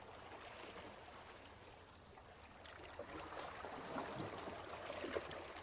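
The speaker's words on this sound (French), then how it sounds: "Les vagues qui vont et qui viennent" Gentle water washes and trickles steadily in the background of a meditation, a soft continuous wash of waves coming and going with no voices.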